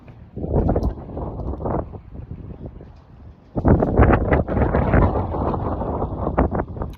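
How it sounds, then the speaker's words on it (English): Wind gusting outdoors and buffeting the microphone, rumbling in uneven bursts that drop briefly to a lull and then return stronger and sustained, with no talk. "the wind picks up as soon as I start filming"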